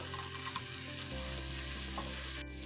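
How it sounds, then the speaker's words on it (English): Onions sauteing in a pan for vegan potato croquettes give a steady, close sizzle with a few stirring scrapes, continuous throughout, with a deep low hum entering partway and no talk. "So we're just gonna saute these until they're nice and tender."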